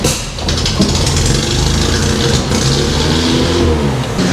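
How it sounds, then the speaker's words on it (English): A Datsun 620 pickup's engine idles fast, a loud, steady, slightly uneven mechanical drone heard up close without pause. "she's idling a little fast"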